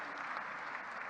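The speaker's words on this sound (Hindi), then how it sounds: "जोरदार तालियां बजनी चाहिए" Steady, distant crowd applause at a government International Women's Day event in Bhopal for an award recipient, a brief wash of clapping heard quietly and evenly throughout.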